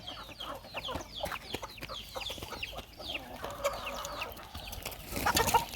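Chickens cluck repeatedly in a busy farmyard, several overlapping calls and chirps at moderate distance over a noisy outdoor background, with louder rustling near the end.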